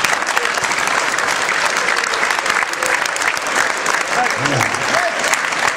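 Sustained applause from a crowd at a sports club's season celebration honoring its team: dense, even clapping that carries on steadily and loudly throughout, with faint voices mixed in underneath.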